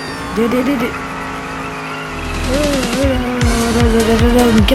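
In the video game Dude Theft Wars, a car drifts with its engine roaring and its tires squealing in sweeping, rising whines. A voice talks over the sound in the first half, and several sharp skids follow near the end.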